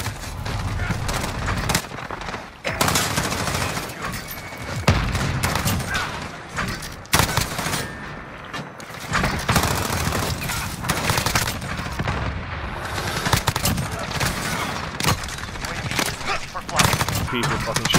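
Video game gunfire from an M4A1 and other weapons rattles in rapid bursts and single shots throughout, dense and loud, with someone talking over much of it.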